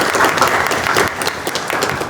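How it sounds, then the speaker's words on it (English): An audience at a lunch-and-learn event applauds a presenter, a brief, steady patter of many hands clapping at moderate loudness. "Please give a round of applause to Sabrina"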